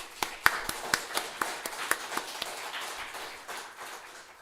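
Scattered hand claps from a church congregation rise into dense, even applause during a Korean Sunday worship service. The clapping sounds moderately near and continues without talk.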